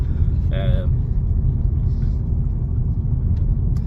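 Cabin of an Audi A4 1.4 TFSI with a 7-speed DSG gearbox driving over a rough road: a constant low rumble of road and tyre noise with a steady hum, and a brief voice-like tone early on.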